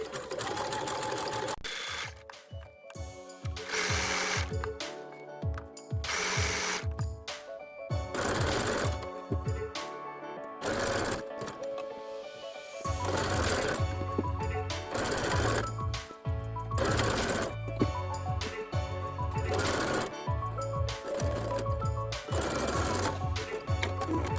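A sewing machine stitches elastic onto fabric for high-waist knickers, running in loud rapid bursts of chattering stitches separated by short pauses, close by with no talk.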